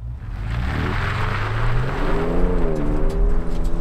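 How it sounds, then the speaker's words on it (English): A 2024 Ford Ranger Raptor pulls away smoothly in 4 auto, its exhaust note rising steadily as the engine climbs through the revs, with a continuous loud drone and no talking. "I'm just gonna smoothly accelerate away."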